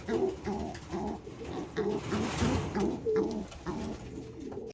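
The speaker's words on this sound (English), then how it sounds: "You're very noisy for a cockbird" A male pigeon coos continuously up close, a steady series of throaty, rolling calls repeating without a break in a loft with young birds, loud and unaccompanied by talk.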